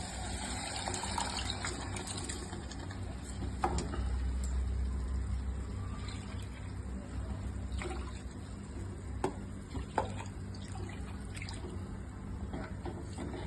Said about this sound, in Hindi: अब इसमें डालेंगे धुले हुए चावल डायरेक्ट